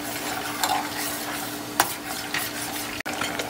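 Fish fries in hot oil with a dense, close sizzle and crackling spatter, sprinkled with light clinks and scrapes of a utensil against the pan, and no talking.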